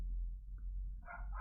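A neighbour's dog barks in the background of a house during a board game session, two short muffled barks at a distance after a quiet pause.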